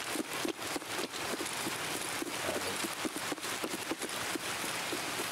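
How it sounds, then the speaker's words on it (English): Steady rain in Escape from Tarkov, a dense continuous hiss of falling drops with scattered louder patters on surfaces, heard alone. "I love this rain sound though,"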